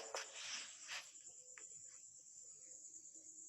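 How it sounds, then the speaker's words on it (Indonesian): Frogs croaking noisily outdoors, a faint chorus of scattered croaks and chirrups with a steady high insect-like drone underneath, the loudest calls bunched in the first second. "Kodok ribut kali kodok. Baru kali itu saya nengok kodok ribut."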